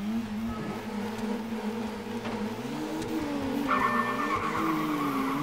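A car in TOCA Race Driver 3 slides with the e-brake held, a sustained tyre squeal over a steady engine drone, with the skid rising in pitch and intensity toward the end.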